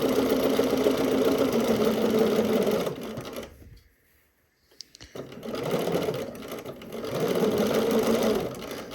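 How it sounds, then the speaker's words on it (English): Sewing machine stitching a shirt seam a quarter inch from the seam line, a loud steady mechanical whir running close up, stopping for a second of near silence, then resuming at the same even pace. "Sewing 1/4 of an inch away from that seam line."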